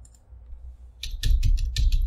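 Quick mouse clicks from someone working in AutoCAD 2022, a short burst of about six sharp, close taps in fast succession after a brief quiet pause.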